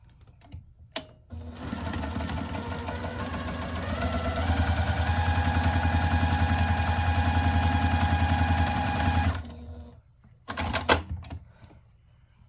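A sewing machine stitches baby quilt top pieces together, a fast rhythmic mechanical whir that starts after a few clicks, speeds up and runs steadily for about eight seconds, then stops, followed by scattered handling clicks.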